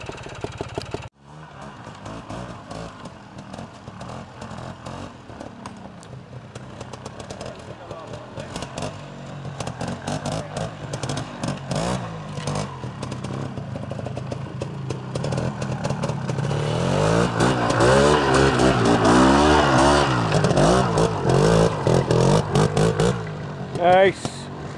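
A trials motorcycle with a Villiers engine rides at a classic two-day trial in the Highlands, its engine chattering and revving louder as it nears, while people talk close by throughout.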